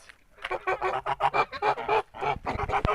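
Kholmogory geese, about four months old, honking in a short run of loud, nasal calls close by, several birds overlapping with brief gaps between bursts.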